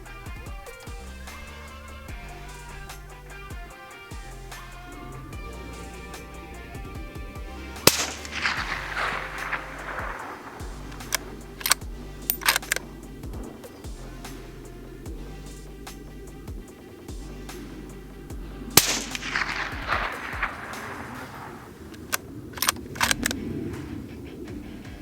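Suppressed rifle shots from a Ruger American Gen 2 firing Norma ammunition: several sharp, close cracks spaced seconds apart, each followed by a brief decaying echo over steady background hum.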